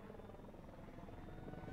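Helicopter rotor thumping steadily throughout in the Salmon Run mode of the Splatoon 3 video game, a continuous dense whirr at a fairly constant level with no other sounds standing out.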